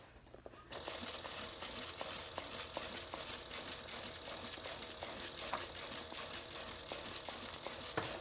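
A sewing machine top-stitches a handbag, running in a steady, rapid, close-up mechanical patter of stitches for several seconds with no voices.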